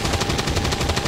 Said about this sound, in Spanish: para acribillarlo a balazos